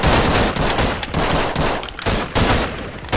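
Rapid gunfire in the video game Garry's Mod during a city battle, loud dense bursts of automatic shots with short gaps, close and continuous, no talking.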